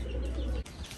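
Racing pigeons coo softly nearby, a low, throaty murmuring call with a faint rustle, quiet and brief with no talking.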